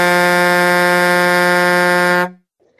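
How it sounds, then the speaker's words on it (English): A truck's air horn blares in one loud, sustained, steady blast that cuts off abruptly after about two seconds, followed by near silence. "The truck's air horn blared."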